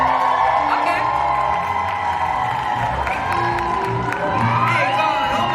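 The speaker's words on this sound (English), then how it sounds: "Can we hear the cheer?" An audience at an event in Ghana cheers loudly for a contestant, with whoops, shouts and clapping forming a constant dense roar and rising yells near the end.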